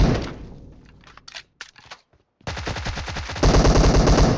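Gunfire in the battle royale game Free Fire, an AWM match: rapid automatic bursts, a short pause with scattered thuds, then dense loud sustained firing building to a harsher volley at the end, with no talk.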